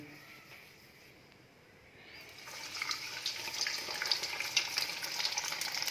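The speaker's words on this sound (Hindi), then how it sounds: "अब इसमें बॉल्स डाल के फ्राई करेंगे।" Cheese potato balls dropped into medium-hot oil, a quiet lull giving way to a rising, steady bubbling sizzle that stays close and moderately loud through the rest.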